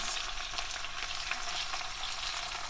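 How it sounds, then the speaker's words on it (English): Baked beans cooking low and slow in a pan, a quiet steady bubbling sizzle with faint stirring movement throughout, no voices heard. "Stir them around a little bit and show them."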